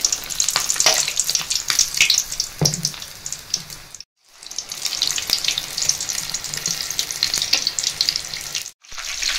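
Stuffed chilli bajji sizzle and crackle in hot oil, a dense, steady frying hiss with small popping bursts that runs alone, broken by two brief silent gaps.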